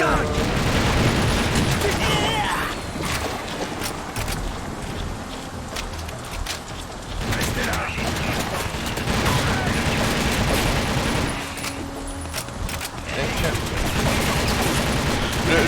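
Dense gunfire and rapid automatic bursts rattle through the TimeShift shooter game, with continuous booming combat noise and someone talking over it.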